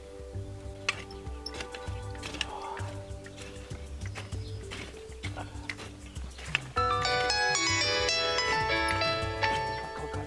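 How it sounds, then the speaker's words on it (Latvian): A phone ringtone signals an incoming call outdoors in a field: a bright, repeating electronic melody begins about two-thirds of the way through and rings on steadily, louder than the quieter background of rustling and clicks before it. "Kaut kāds zvana."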